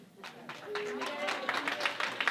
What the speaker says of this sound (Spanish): Un aplauso al hermano